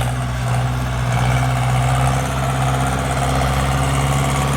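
A Ford 6610 tractor's diesel engine idles steadily up close, a loud, even rumble with a low throbbing hum and no voices.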